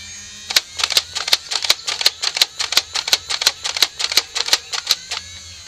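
A Nerf Elite Rayven CS-18 toy blaster fires in a rapid stream of sharp, snappy clicks, around twenty shots over several seconds in a fairly even rhythm, close and clear with no talking.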